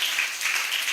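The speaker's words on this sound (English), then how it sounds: "Please let's clap Spell Africa International." A short burst of audience clapping, many hands applauding together, fairly loud and dense with no voices.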